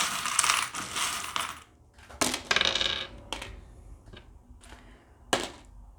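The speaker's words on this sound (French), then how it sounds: "je vais prendre des breloques et puis je vais aller finir avec ça" Small metal divination charms are picked up and dropped, giving a jingling clatter followed by several separate sharp clinks and taps at uneven intervals, close and clear.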